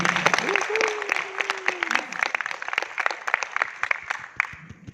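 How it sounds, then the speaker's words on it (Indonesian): Applause from an audience at a Prudential sales event, steady clapping with a voice talking over the first couple of seconds, then continuing as a rough, uneven patter that fades out. "Tepuk tangannya jangan tanggung"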